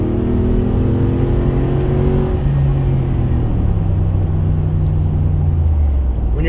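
Mercedes G550 non-AMG V8 engine from 2015 heard from inside while driving, a loud, steady low rumble with a drone that shifts in pitch as the revs change.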